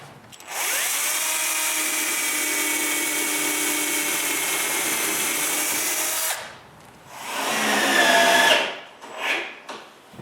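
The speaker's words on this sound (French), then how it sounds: "je perce des trous pilotes" A power drill bores pilot screw holes in wood while building a dust filtration system, with one steady whining run of about six seconds followed by two shorter bursts up close.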